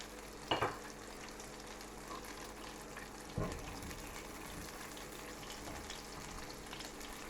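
A cheese and chorizo sandwich fries in a pan with a steady, close sizzle, and two brief clatters cut in near the start and again after a few seconds.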